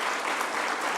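Dense, loud crowd applause for Coach Cheche of the Harambee Starlets women's football team at a reception hosted by President Ruto, sustained for a brief second of continuous clapping.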